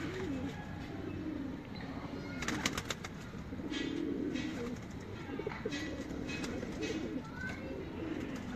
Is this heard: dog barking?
no